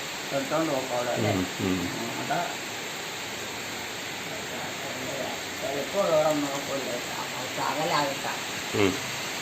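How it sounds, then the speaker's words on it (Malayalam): Heavy rain makes a steady broadband hiss throughout, while people talk over it in the foreground. "ഭയങ്കര മഴയാണല്ലോ"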